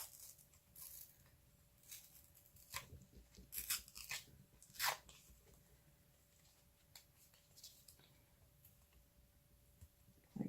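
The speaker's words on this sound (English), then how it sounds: "I want to rip some pieces off it so it looks more old and weathered." Tough paper torn by hand to add distressed, weathered edges to a vintage art journal, giving several short crunchy rips in bursts with quieter rustling between them, fairly close and with no talking.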